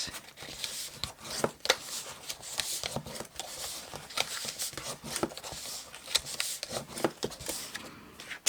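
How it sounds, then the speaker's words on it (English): Paper fold lines on the base and lid of a simple lidded paper box being burnished, a rhythmic run of short dry rubbing strokes, close and fairly quiet, repeating steadily throughout. "So burnish the straight lines on the base and the lid."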